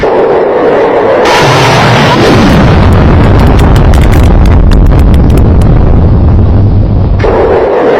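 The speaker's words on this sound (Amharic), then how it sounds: "አፈወርቅም ስለ ድሬ አለና ተኮሰ" A cannon-like blast for a narrated account of the Ogaden War between Ethiopia and Somalia, with Ethiopian MiG fighter pilots in action: a loud, sustained roaring boom swells in and rumbles for about six seconds, with no voices over it.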